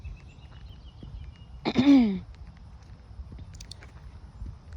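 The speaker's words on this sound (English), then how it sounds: "Sorry about that, I had to cough again." A single cough with a throaty, rasping burst in an otherwise quiet room.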